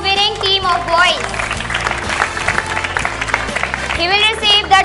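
Audience applause for the winning boys' team at a quiz program prize ceremony, a steady wash of clapping lasting throughout, with children's voices and cheering mixed in over music.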